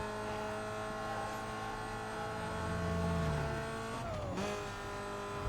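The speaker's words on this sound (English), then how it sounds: "And my god, does this thing sound like a GT racer." A sports car engine, a Chevy Cobalt in Need for Speed: Most Wanted on PS2, hums steadily, then revs with a rising, shifting pitch around the fourth second before settling.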